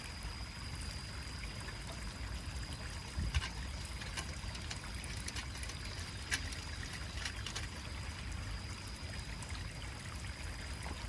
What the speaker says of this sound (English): she locates a nearby stream to harvest water